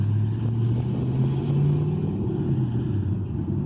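A 2017 Chevrolet Camaro SS 50th Anniversary Edition with open headers rumbles close by, a deep loud V8 idle that swells gently in a mild rev and settles again, with no voices over it.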